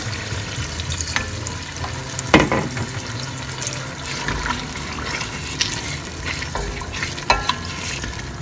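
Julienned vegetables are tipped into a hot pan of frying onions for jollof rice and stirred, giving a steady sizzle broken by scraping stirs and a few sharper clatters, close and fairly loud, with no talking.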